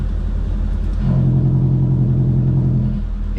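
Twin-turbo Subaru engine idling and creeping into a garage, a loud low rumble that swells briefly with a steady droning hum before settling back.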